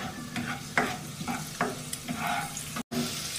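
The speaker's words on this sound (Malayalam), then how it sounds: "വെളുത്തുള്ളി ഒന്ന് ഫ്രൈ ആയിട്ട് വരണം." Garlic fries in a pan with a steady sizzle, punctuated by several sharp scraping stirs at irregular intervals and one brief silent gap near the end.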